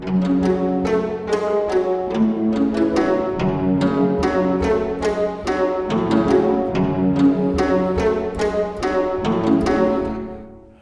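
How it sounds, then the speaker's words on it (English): Violin pizzicato slap from the Nuclear plugin: a quick run of bright plucked notes with sharp percussive attacks, played in a steady rhythmic pattern, close and clear, fading out at the end with no talking. "It's a violin pizzicato slap"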